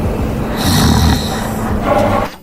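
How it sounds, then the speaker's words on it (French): Loud snoring from a sleeping guard in a video game, drawn-out rasping breaths repeating close up and filling the short moment alone. "Même d'ici, je peux l'entendre ronfler."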